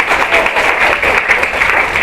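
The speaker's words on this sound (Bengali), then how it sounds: "রাজদীপের জন্য একটা হাততালি হোক।" Audience clapping fills a school session hall, a dense, steady round of applause from a crowd with no speech, holding at full strength for about two seconds.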